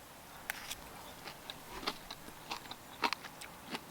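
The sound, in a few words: eating crunchy onions and peppers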